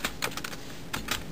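Fingers type on a computer keyboard in a short burst of quick, close key clicks, a few strokes near the start and another pair near the end, with no talk.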